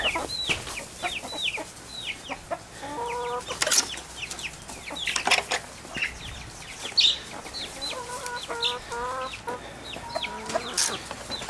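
Several chickens cluck and chatter nearby in an uneven stream, with short squawks and occasional rustling and knocks in between.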